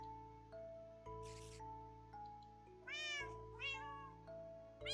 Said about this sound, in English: There's a kitten right next to me.